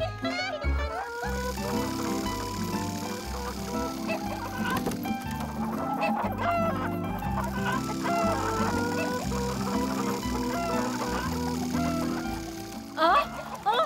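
Hens clucking in a busy barnyard chorus, mixed with music and sound effects at a steady level throughout.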